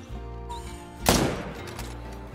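Hunting rifle gunshot in the Call of the Wild video game, a single sharp report that rings out over a steady low outdoor ambience and tails off slowly.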